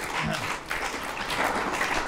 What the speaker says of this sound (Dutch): Ja, applaus voor jezelf!